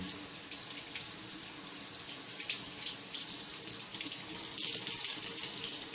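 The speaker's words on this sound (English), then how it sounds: "Takes a little more effort to rinse it clean." Tap water running over a Rockwell 6c razor as it is rinsed clean, a steady faint splashing stream that swells near the end, with no talking.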